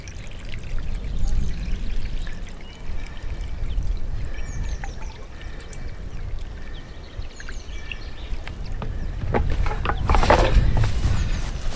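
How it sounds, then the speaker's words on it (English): Liquid from a bottle is poured slowly onto the soil beside a nut tree, a steady soft trickle and splash running through the whole stretch, with some louder gurgling near the end and no talking. "Just pour it slowly,"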